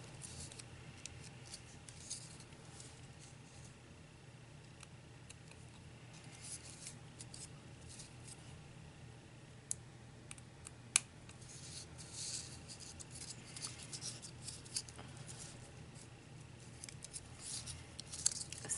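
Scissors cutting paper to trim and round off an accordion-fold paper bow, producing quiet scattered snips and rustles over a faint steady background hum.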